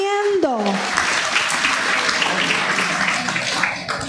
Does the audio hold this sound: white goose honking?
no